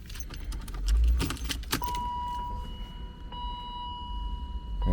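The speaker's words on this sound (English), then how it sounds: "We're gonna turn the ignition on." Keys jangle and turn in the ignition of a BMW E36 convertible, followed by electronic chimes and a steady tone as the ignition comes on, close and alone.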